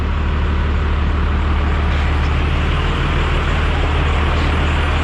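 A 5.9 Cummins 12-valve diesel engine runs at a steady, loud, dense rumble throughout, heard up close with no break.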